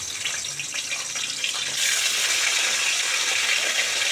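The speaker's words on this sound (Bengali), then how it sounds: "মাছগুলো আস্তে আস্তে ছেড়ে দেবো।" Pomfret fish slid into hot oil for frying sets off a steady sizzling hiss that swells suddenly about two seconds in and stays loud, with no talking.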